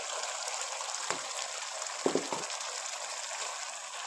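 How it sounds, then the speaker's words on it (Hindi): Boiled spinach drops into a pan of cooked-down spices for aloo palak, giving a few short splashy sizzles near 1 s and 2 s over a steady low background hiss. "टाइम पे डाल दें उबला हुआ पालक।"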